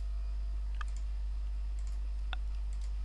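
Two quick, sharp mouse clicks in Adobe Photoshop, one early and one later, isolated against a low steady hum with no talk.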